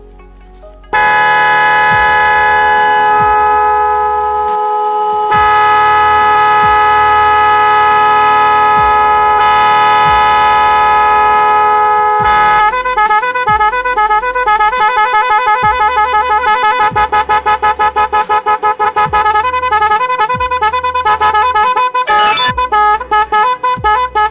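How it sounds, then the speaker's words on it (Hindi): Loud Minda trumpet car horn blares continuously, first a sustained multi-tone chord, then a rapid stuttering pattern of repeated honks, close and very loud. "हॉर्न बढ़िया है"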